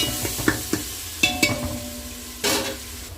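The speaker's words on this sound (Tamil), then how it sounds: "நம்ம இப்போ இஞ்சி பூண்டு பேஸ்ட்டு ஆட் பண்ணிக்கலாம்." Ginger garlic paste sizzles in a hot pan while a spoon stirs it, giving several sharp scraping clatters over a soft, steady frying hiss, close and fairly loud.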